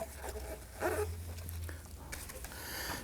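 A plastic trim tool pries outward on a 2015-2024 Nissan Murano taillight, giving a few close scraping and creaking bursts of plastic over a steady low hum, with no talking.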